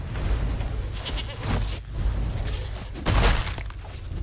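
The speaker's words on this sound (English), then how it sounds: "It's a goat!" Goat bleating in the Magic: The Gathering Arena video game, a few loud wavering bleats over game sound effects with a crashing, shattering burst mixed in.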